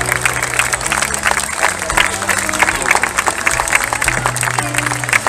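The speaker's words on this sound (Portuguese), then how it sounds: "Uma salva de palmas para os comadores" Applause from the audience at an outdoor serenade during a town festival, many hands clapping steadily over a low musical hum, with some crowd noise mixed in.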